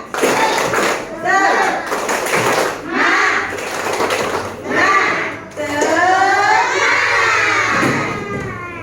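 A school class chants and claps a rhythmic spirit clap together in bursts, children's voices shouting in unison over sharp patterned claps, loud and close in a classroom.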